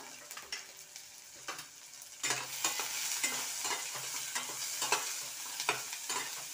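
Potatoes seasoned with turmeric and salt sizzle steadily in a pan while a spatula stirs them in repeated scraping strokes, growing louder after the first couple of seconds, with no talking.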